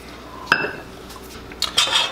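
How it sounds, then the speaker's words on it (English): A metal utensil clinks and scrapes twice against a pan while sausage is spread over a mozzarella layer for a Chicago-style deep dish pizza, cooked on a Big Green Egg. Short, close, fairly sharp knocks with quiet gaps, no talking. "Spread the sausage around."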